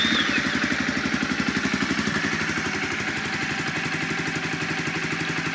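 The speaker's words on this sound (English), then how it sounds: "Let's start it up." A Honda CB300F motorcycle with a Scorpion exhaust and high-compression piston idles loud and close, a steady rapid thumping pulse with mechanical clatter and no talking.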